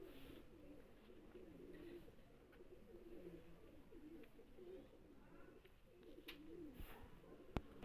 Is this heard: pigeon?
yes